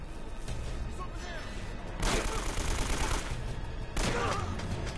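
Gunfire from a weapon in the action game Uncharted: Drake's Fortune, played on crushing difficulty, comes as two loud, sharp bursts of rapid shots about two seconds apart over steady in-game background noise.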